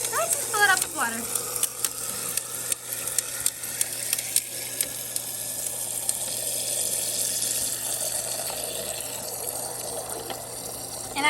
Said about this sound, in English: I just fill it up with water.